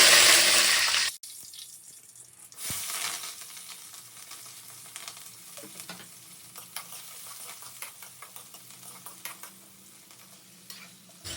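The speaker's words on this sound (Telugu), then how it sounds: "ఇక ఇది కూడా ఆయిల్ వేడైపోయింది పూదిన ఎత్తాను కొంచెం" Chicken deep frying in hot oil with mint leaves, a loud bright sizzle at the start that drops away, then a steady softer crackle and spatter with occasional stirring clinks close by.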